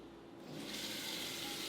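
A kitchen tap turned on, water splashing steadily into a sink as produce is washed with a lemon and salt solution; a broad, close hiss starts after a short quiet moment and runs on without talk.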